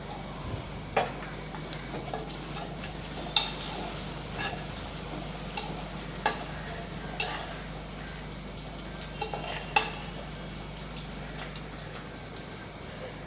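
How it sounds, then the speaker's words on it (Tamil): Onions with about ten cloves of sliced garlic sizzle and fry steadily in a pan, broken by occasional sharp stirring clicks and scrapes, close and fairly even, with no talking over it. "வெங்காயம் ஓரளவுக்கு நல்லா வதங்கிடுச்சு இப்போ நம்ம தக்காளி சேர்த்துடலாம்"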